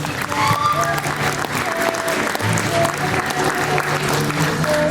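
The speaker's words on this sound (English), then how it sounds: "Once again, a round of applause for all the boosters." Audience applause for the boosters at a Siva Samoa dance recital, a steady mass of clapping throughout, with cheers and some voices mixed in, fairly loud and sustained.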